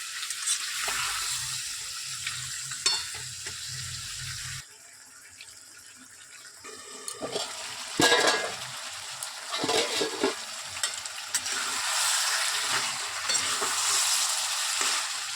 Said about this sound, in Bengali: এবার আমি কষাবো, হেভি টেস্ট হবে